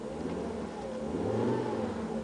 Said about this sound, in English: I'm going to rev it, so keep an eye on the tachometer.